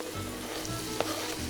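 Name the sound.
onion frying in a pan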